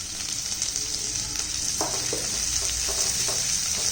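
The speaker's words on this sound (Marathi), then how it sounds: "कांदा परतून झाल्यानंतर आता टोमॅटो आपल्याला त्यामध्ये परतून घ्यायचा आहे" Tomato sautéing in a pan with fried onion for a potato rassa bhaji gives a steady bright sizzle throughout, with a few soft spatula stirs and scrapes in the second half.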